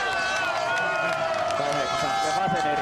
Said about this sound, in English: The crowd acknowledge their hero as he arrives in this spectator area.